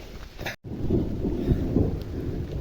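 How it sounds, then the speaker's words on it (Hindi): Heavy rain pours steadily on a mountain hiking trail in Kashmir, a dense rumbling roar with low thumping gusts, close and continuous with no talk. "क्योंकि बारिश भी अब तेज़ हो रही है।"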